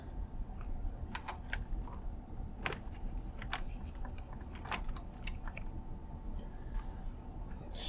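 Keys clack on a CoCo3 computer keyboard in scattered, uneven taps, close and fairly quiet over a steady background hum, with no talking.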